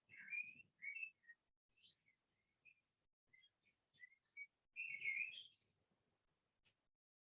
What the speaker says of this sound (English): If you can hear the birds singing there,